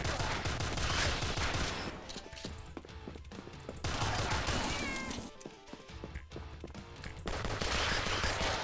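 Rapid gunfire in the video game Rise of the Gorecats, bursts of shots in quick fusillades that stop and resume, with cat-like meows and yowls mixed in between, loud and continuous with no talking.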